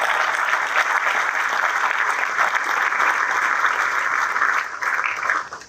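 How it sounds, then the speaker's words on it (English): A crowd at a military change of command ceremony applauds in a dense, steady burst of clapping that tapers slightly toward the end. "Let's give a round of applause for you."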